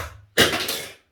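A small clip drops onto a hard surface indoors in one sudden, fairly loud clatter that rings out briefly and fades within about a second, with no voices.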